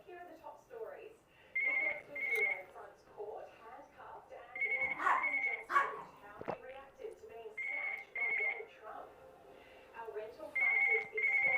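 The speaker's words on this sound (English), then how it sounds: "that'll be the phone." A telephone rings in repeated double bursts, fairly faint, under and between ongoing talk.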